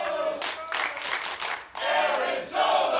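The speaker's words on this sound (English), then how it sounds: "the crowd's enthused" A wrestling crowd at a Dojo Pro show cheers and claps loudly in waves, a dense roar of voices and applause that swells again after a short dip.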